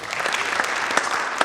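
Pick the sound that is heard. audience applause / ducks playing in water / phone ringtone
audience applause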